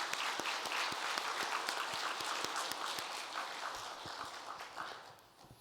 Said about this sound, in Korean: 우리 아버지 하나님 앞에 영광의 박수 한번 돌립시다